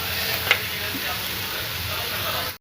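Masala sizzles in hot oil in a pan for a vada pav filling, a steady close frying hiss with a faint stir clink early on and no talk.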